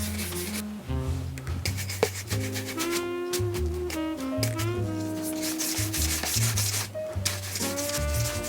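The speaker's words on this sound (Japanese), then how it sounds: "土踏まず部分はこの踏まずゴテを当てていきます。" A heated arch iron is rubbed back and forth along the waist of a leather shoe sole during bespoke shoemaking, giving a continuous close scraping and rubbing with a squeaky edge, and no talk.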